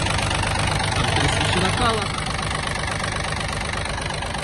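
The engine of a Yanmar AF-22 Japanese mini tractor runs at a steady idle, a continuous, even mechanical rumble, with a voice talking over it.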